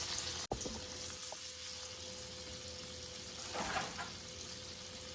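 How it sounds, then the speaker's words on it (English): Steady crackling sizzle of cheese-filled pizza balls frying in a hot pan, continuous and close, with a brief sharp click near the start. "You can hear the sizzle."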